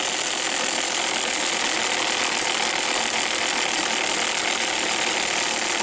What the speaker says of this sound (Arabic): نجرب اولا هذا المولد الخاص بالشحنات الموجبة، نغذيو المحرك بخمسة فولت